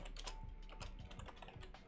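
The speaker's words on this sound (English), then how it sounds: "I'm just typing it at this point." Rapid clicking of computer keyboard keys during an online chat-style game session, a steady run of close, fairly quiet keystrokes with no talking.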